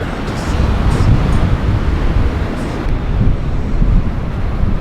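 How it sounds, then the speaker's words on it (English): Strong wind roars and buffets the microphone continuously at the Maheno shipwreck on Fraser Island, a loud rushing blast with gusts rising and falling throughout. "Very windy out here"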